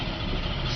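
A 2003 Audi A6 with a 3.0L V6 engine runs steadily at idle, a dense, even mechanical hum heard close up with no other sounds.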